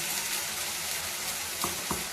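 Onions with salt frying in a pan, a soft continuous sizzle with two brief stirring scrapes near the end, no talking.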